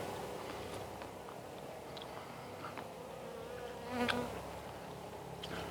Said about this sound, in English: There's our honeybee ladies hovering around.